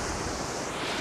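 Sea waves at a beach wash in as a dense, continuous roar of surf mixed with wind buffeting the microphone, loud and close, with no voices.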